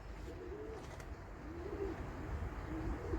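Soft, low pigeon coos repeat a few times against a steady background hiss, fairly faint and somewhat distant.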